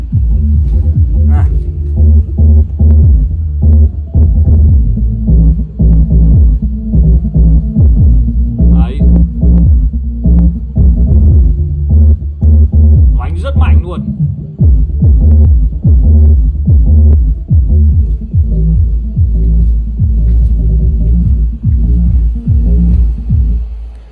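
A large subwoofer driven by a heavy-duty amplifier pumps deep, loud bass in a steady throbbing rhythm throughout, alone with no talking over it.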